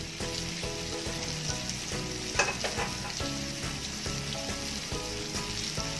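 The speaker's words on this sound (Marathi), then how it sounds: "पुन्हा दुसऱ्या बाजूला पण छान पाच मिनटं शेकून घ्यायचं आहे आणि मी गॅस सिमच ठेवलेला आहे" Stuffed bitter gourd filled with fresh coconut fries in a pan over a low gas flame, giving a steady close sizzle with a rhythmic clatter running throughout.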